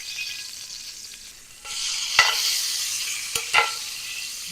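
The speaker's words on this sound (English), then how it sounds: "So I'm just going to actually sear the outsides on both of these" A steak hits a hot Hexclad pan and sears with a loud, sustained sizzle, a few sharper spits and clanks rising from the hiss.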